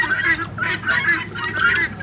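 A flock of ducks on a farm quacks and honks in a dense, overlapping chorus, loud and close, with harsh repeated calls throughout.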